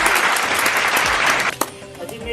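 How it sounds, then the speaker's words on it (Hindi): An audience bursts into loud, dense clapping on a comedy quiz-show set, sustained for about a second and a half before cutting off abruptly, followed by a few scattered sounds. "ताली बजाइए"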